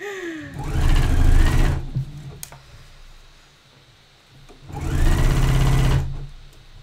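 A sewing machine runs two bursts of stitching with lime green thread, joining a swimsuit seam within the seam allowance at a 4 stitch length, each run lasting over a second and separated by a quiet pause.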